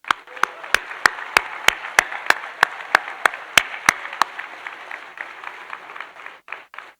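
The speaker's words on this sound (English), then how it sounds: "Please give yourselves a round of applause" A school district celebration audience breaks into a sustained round of applause, dense clapping filling the room with sharp louder claps standing out, tapering off toward the end.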